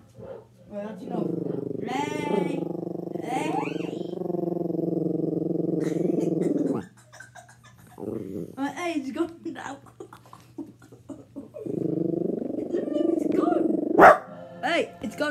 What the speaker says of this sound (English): Come get the naughty dog.